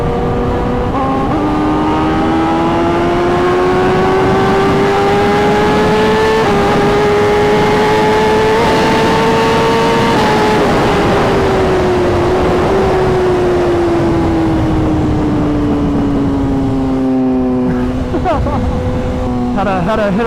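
BMW S1000RR sport motorcycle revving hard through rising gear pulls on a highway in traffic, engine pitch climbing and shifting several times as it rushes past, loud and close with wind noise throughout.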